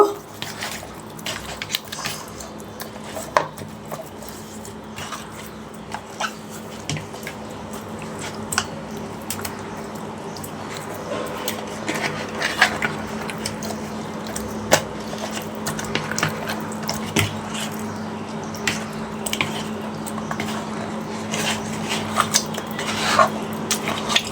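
Bare hands mix vegetables with salt and turmeric in a metal bowl, giving soft repeated squishes and light clinks against the pot over a steady low kitchen hum.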